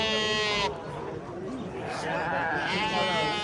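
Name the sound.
sheep bleating at a livestock market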